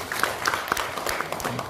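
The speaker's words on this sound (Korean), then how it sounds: "우리 모두에게 박수 부탁드립니다." A crowd claps and applauds in a steady, fairly quiet patter that continues for a couple of seconds with no one speaking over it.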